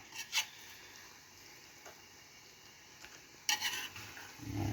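Rice in a pot for plov stirred with a skimmer, faint scraping and stirring strokes over a soft background hiss, with a louder scrape toward the end and no talk.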